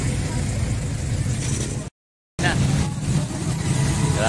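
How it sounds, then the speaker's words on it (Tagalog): Busy street traffic in Angeles City, Pampanga, with car engines idling and revving nearby, a steady rumble broken by a brief dropout, while people talk over it. "Traffic na po sa Angeles."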